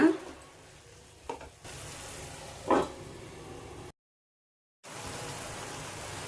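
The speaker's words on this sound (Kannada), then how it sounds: "ಈಗ ಚೆನ್ನಾಗಿ ಮಿಕ್ಸ್ ಮಾಡಿ ಇದನ್ನ ಒಂದು 10 ನಿಮಿಷ ಮೀಡಿಯಂ ಉರಿಯೊಳಗೆ ಬೇಯಿಸೋಣ." Brinjal sukka cooks in a pan over a medium flame, a soft steady sizzle broken by a couple of brief stirring scrapes and a short gap of silence before the hiss resumes.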